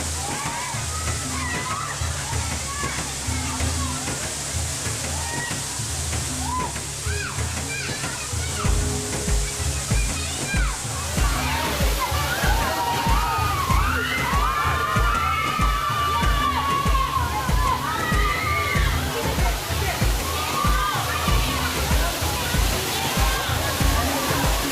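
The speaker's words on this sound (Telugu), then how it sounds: "వాటర్ ఫాల్స్లో స్నానం చేసి మేము సరదాగా వాతావరణంలో ఫ్రెండ్స్తో కలిపి బిర్యానీలు అవి తినడం గట్రా వస్తుంటాం" Saruduguru waterfalls in summer, with a steady roar and slosh of falling water as families and friends bathe, and loud overlapping voices, shouts and children's chatter throughout.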